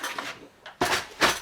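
Metal cutlery rattles and clinks in a kitchen drawer in an off-grid home, a few quick bursts of jangling close by.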